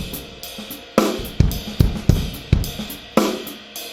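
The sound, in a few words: drum groove on ride cymbal with left foot hi-hat between beats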